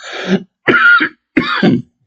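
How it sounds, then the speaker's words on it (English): Three short, harsh coughs, loud and close, separated by brief pauses, with no talking. "I'm going to cough, so excuse me."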